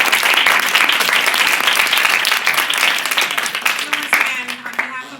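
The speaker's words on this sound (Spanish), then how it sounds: "Yo pediría un aplauso para ellos." Sustained applause from an audience at a forum on social movements and violence in Mexico, dense steady clapping that thins slightly toward the end as a voice begins under it.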